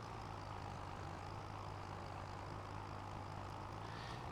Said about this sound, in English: Even if this is apparently a 160 horsepower tractor, it's quite slow heading up these hills, even without a load of stones in the trailer